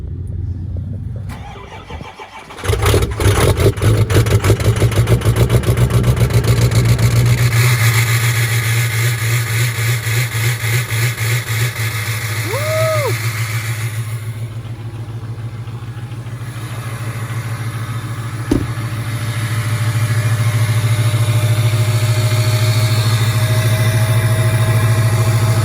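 A hood-stacked Ford 6.0 Power Stroke diesel truck cold-starts with a cranking whir that catches into a loud, steady, rattling diesel idle, close to the engine, with a brief rev and no talking.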